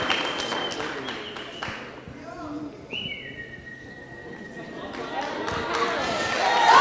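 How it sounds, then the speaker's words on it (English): An indoor audience applauds pitching competition participants at a business workshop, with moderate clapping that builds toward the end while a voice talks over it. "Let's give them a round of applause."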